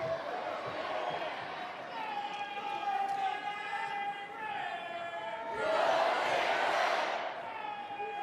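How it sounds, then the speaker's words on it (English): A large crowd at a Nebraska college wrestling dual against Iowa in Lincoln roars and cheers, swelling near the end, while commentators talk over the noise. "Great Nebraska crowd"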